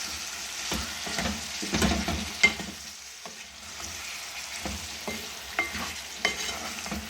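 Spices frying and being stirred in a pan for raw mango pickle, a close crackling sizzle with irregular scraping strokes and occasional sharp knocks of the spoon, no talk.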